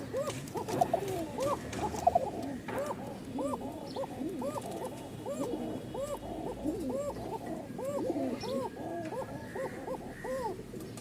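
Pigeons cooing in a loft, repeated soft rising-and-falling coos from more than one bird in steady overlapping rhythm, fairly quiet and close, with faint background noise.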